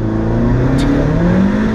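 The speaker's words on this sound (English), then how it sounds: "Should we do a race launch?" Alfa Romeo 4C turbo sports car doing a race launch, its engine roaring loudly and rising steadily in pitch as it accelerates hard, close and continuous with no talk.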